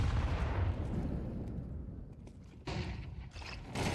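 Grenades explode during a Counter-Strike match, loud heavy booms rumbling one into another across a few seconds, with fresh blasts hitting near the end.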